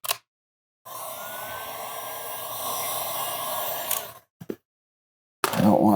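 A heat gun blows steadily on a burnt maroon vinyl wrap applied to a door, a close airy whoosh lasting about three seconds, then cutting off, followed by brief clicks and a short burst of handling noise.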